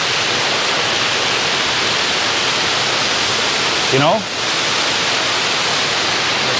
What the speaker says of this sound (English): And you can see this nice waterfall here.